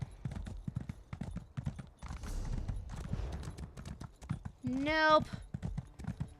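Horse hooves clip-clop steadily in the video game Elder Scrolls Online, Morrowind, close under a man's near-continuous talking, with a brief rising whinny near the end.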